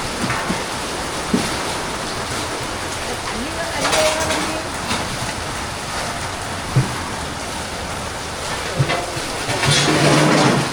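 Steady rain hissing outdoors at a temple, a broad constant wash with occasional louder gusts and faint background voices.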